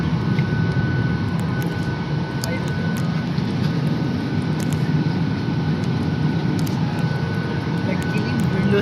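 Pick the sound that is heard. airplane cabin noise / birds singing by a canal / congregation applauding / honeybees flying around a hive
airplane cabin noise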